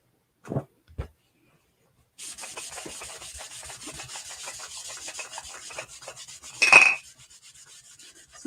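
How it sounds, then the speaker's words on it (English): Chalk paste is buffed on a wooden block with a steady, close rubbing and scrubbing sound, preceded by two soft taps and ending in a brief louder swipe. "So now I'm just kind of buffing it out."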